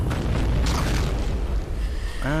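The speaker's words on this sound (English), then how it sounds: "there are explosions there to blow you up" Explosions in the video game Shadow Warrior, a loud, rumbling boom with a sustained crackling burst, closing with a rising mechanical tone.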